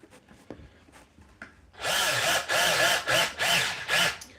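A power drill drives screws into a wooden bed frame, starting after a few quiet taps with a loud whirring burst that pulses four or five times as the screw bites, close by.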